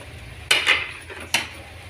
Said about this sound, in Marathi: एकसारखे हलवून घ्यायचे पोहे, म्हणजे अशी छानपैकी परतून घ्यायचे पोहे.